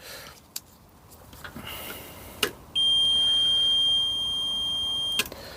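A multimeter continuity beep sounds while a charging-system fault is tested on a K-series Skoda 120: faint probe clicks, then one steady, loud, high tone held for about two and a half seconds in a quiet setting.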